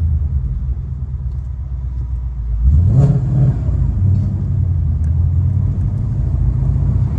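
A 2011 Ford Mustang GT's engine rumbles loud and close, then rises in a brief rev as the car pulls away and settles into a steady deep drone.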